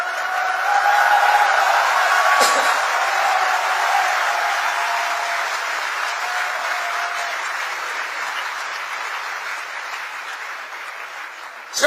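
Sustained audience applause at a political speech, a dense, even wash of clapping that stays loud throughout and slowly eases, with a single sharp knock partway in.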